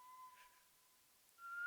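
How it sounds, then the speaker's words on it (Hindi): A faint, thin whistle holds one steady pitch for over a second. After a brief gap it returns slightly louder at a different pitch, heard alone in a quiet room during a tense crime-drama scene. "लगता है कोई सीटी बजा रहा है।"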